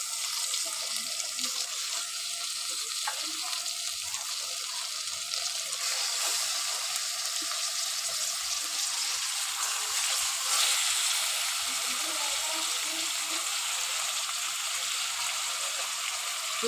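Chicken sizzles softly in a pan with golden fried onions, a faint continuous hiss and crackle with no voices.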